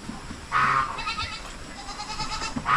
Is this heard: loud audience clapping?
no